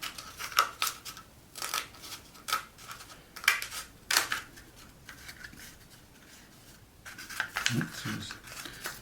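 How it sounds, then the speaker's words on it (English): Scissors cut down the middle of a cardboard toilet roll, giving a series of close, crisp snipping crunches in irregular bursts, with a voice speaking briefly near the end. "I'm going to take the third toilet roll and just cut it straight down the middle."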